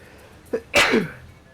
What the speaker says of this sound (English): Of course, as I say that, I feel a sneeze coming on.